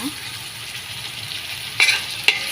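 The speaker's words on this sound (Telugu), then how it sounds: "బాగా ఎర్రగా వచ్చేంతవరకు అయితే వేయించుకోవాలి ఉల్లిపాయలు అల్లం పేస్ట్ ఇవన్నీ అయితే బాగా ఎర్రగా వేగాలి" Chopped onions and ginger-garlic paste fry for a chicken dish with a steady soft sizzle in a pan, broken by two sharp utensil scrapes or taps near the end, with no voices.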